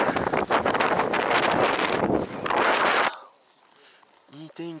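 Strong wind roars across the microphone near the summit of Everest, a loud continuous buffeting for about three seconds before cutting away to a quiet, calmer stretch with faint voices.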